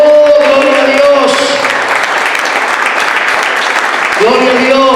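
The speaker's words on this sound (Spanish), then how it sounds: "¿Cuánto le dan un aplauso a Cristo?" A church congregation applauding: dense, sustained clapping from a large crowd, loud and close. A preacher's voice rises over it at the start and again near the end.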